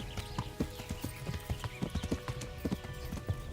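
Horse hooves clip-clop in the medieval game Kingdom Come: Deliverance, a quick run of fairly close, quiet thuds with a faint whinny mixed in.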